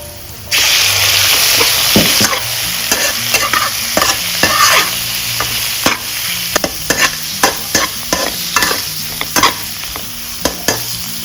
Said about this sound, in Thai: กระเทียม ผัดให้หอมนะคะ ใส่กุ้งค่ะ